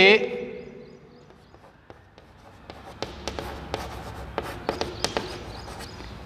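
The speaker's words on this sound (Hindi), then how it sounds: "थैंक्स लिखते हुए" Pen writes by hand on paper, making light scratching strokes and scattered sharp taps that grow busier toward the end, heard close up after a brief loud burst at the start.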